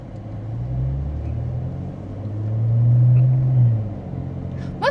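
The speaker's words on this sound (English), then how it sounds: "I'm just gonna let this car go by." A car drives past on a road beside a river, its low engine rumble swelling as it approaches and then fading away, fairly close and heard alone.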